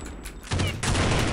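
Gunfire in a video game shooter, a dense, continuous burst of loud rapid shots that builds and stays intense throughout.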